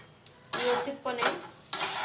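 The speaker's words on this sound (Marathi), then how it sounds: "व्यवस्थितपणे 5 ते 10 मिनिटं आपण याला परतून घेणार आहोत" Fried rice being stirred and sautéed in a pan, heard as three separate bursts of scraping and sizzling with brief quieter gaps between them, up close and without speech.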